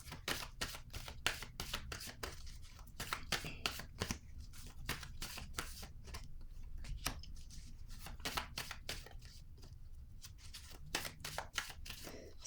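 Tarot cards shuffled by hand during a reading, a steady run of crisp, close riffling flicks and slaps repeating rapidly for several seconds at a soft level, with no talking.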